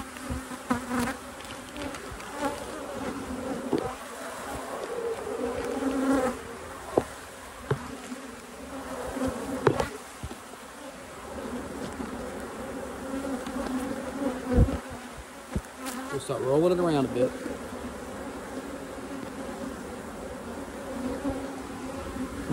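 Dense, steady buzzing of many honeybees during a powdered-sugar varroa mite check, a continuous close hum with shifting pitch that fills the whole stretch and swells briefly near the middle, no talking.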